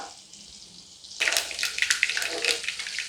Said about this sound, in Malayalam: കടുകെല്ലാം പൊട്ടിക്കഴിഞ്ഞിട്ടുണ്ട്